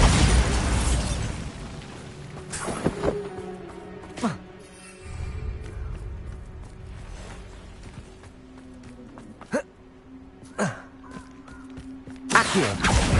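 In Hogwarts Legacy, Bombarda blasting-spell explosions go off as several sharp booms and pops spread across the stretch, mixed with combat noise, while a voice talks intermittently.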